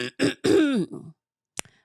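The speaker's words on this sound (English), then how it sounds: "so I'll be clearing my throat" A close, voiced throat clearing with a rough rising-and-falling rasp, then silence and a brief click-like sound near the end.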